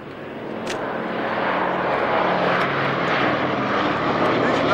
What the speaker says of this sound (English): Engines are running and the whole commentary stand is vibrating with power.